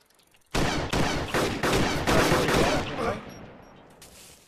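M107 rifle gunfire in the video game ArmA 2 DayZ, a burst of several loud sharp shots in quick succession that fade into an echoing tail.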